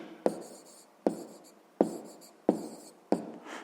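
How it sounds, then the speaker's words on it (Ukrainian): A pen writing on paper during a sixth-grade maths exercise: five short, distinct scratching strokes in a steady rhythm, close and clear with quiet gaps between, no talk. "Пишемо отже."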